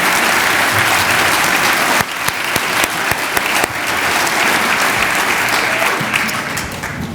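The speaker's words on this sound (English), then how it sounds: "Please give our students and our teachers who prepared them today a round of applause." Audience applauding school choir students and their teachers at a Martin Luther King celebration in Simsbury, a dense, loud and steady clapping that carries on for several seconds with no talk over it.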